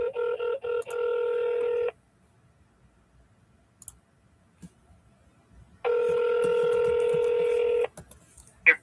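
Telephone keypad dialing tones sound in two bursts of quick beeps with faint clicks, separated by several seconds of near silence.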